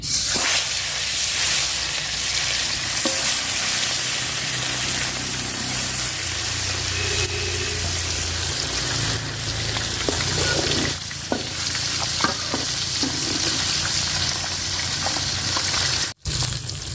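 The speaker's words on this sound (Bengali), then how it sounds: "আমার পাতিলের তেলও গরম হয়ে গেছে, তো আগে মাছ ভেজে নিব।" Rani khoiya fish rubbed with turmeric and salt frying in hot oil in a pot, a loud, steady, close sizzle and crackle that runs unbroken for the whole stretch, with no talking.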